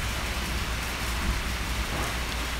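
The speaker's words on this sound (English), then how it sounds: "The rain is getting intense" Intense rain pours down outside an indoor room, a dense, loud, unbroken roar of drops drumming on surfaces with no pauses.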